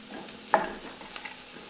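Minced garlic and vegetables sauteing in a pan over medium heat, with one soft scraping stir and a faint, steady sizzle in the background; no talking.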